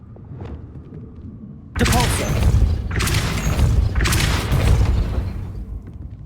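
Depulso spell impacts in Hogwarts Legacy: after a quiet moment, a sudden loud blast followed by further heavy booming thuds and crackling bursts over several seconds.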